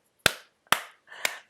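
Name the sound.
slow golf clap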